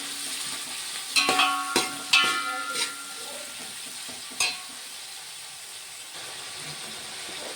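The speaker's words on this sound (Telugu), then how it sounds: "ఒక 1/2 కిలో వరకు ఉల్లిగడ్డలు తీసుకున్నాను, కలిపేసుకుంటున్నాను" Half a kilo of onions frying in a pan for chicken bagara rice, stirred with a continuous sizzle and a few sharp scraping clatters from the spoon early on, then a steady hiss.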